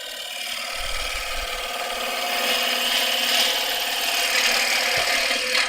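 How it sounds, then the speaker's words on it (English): A sharp woodturning gouge fed gently into spinning wood on a lathe, producing a continuous smooth shearing hiss that swells slightly as the cut deepens, close and uninterrupted by talk. "gently lifting the cut to get my cut, and then I'm gently feeding the tool in. Nice sharp gouge,"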